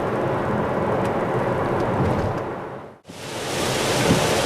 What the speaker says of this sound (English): I'm heading into some really terrible rain.